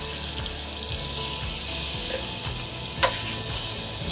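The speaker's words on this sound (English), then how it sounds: "we're gonna cook these onions until they're a little bit tender" Chopped onions cook in a pan of melted butter, giving a steady, even sizzle that stays fairly quiet, with a faint tick or clink partway through.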